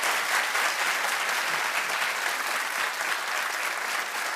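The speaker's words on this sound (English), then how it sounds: "Clap if you love a good judge show." Studio audience at a daytime talk show breaks into sustained, dense applause that stays loud and steady throughout, with no talking over it.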